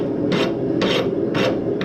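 Hand rasp filing a forged horseshoe knife in four steady strokes roughly half a second apart, each a bright scraping rasp over a constant low hum, close and fairly loud.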